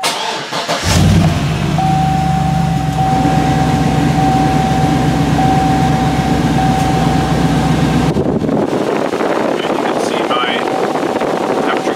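A vehicle engine cranks and catches after a second, then runs at a steady idle with a faint whine for several seconds before the sound cuts to quieter background noise near the end.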